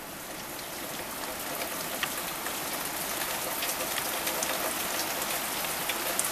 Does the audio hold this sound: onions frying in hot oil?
no